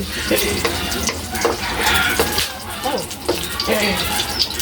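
Pork cracklings frying in their own rendered fat, heard up close as a steady loud sizzle. It is broken by scraping stirs and clatter in the pan, and voices talk over it.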